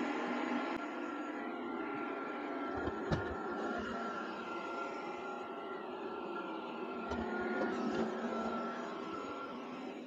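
A Liectroux C30B robot vacuum cleaner runs with a steady whirring motor hum and brushing noise, continuous and moderately close, with occasional faint clicks as it climbs over a small ledge at a fireplace hearth.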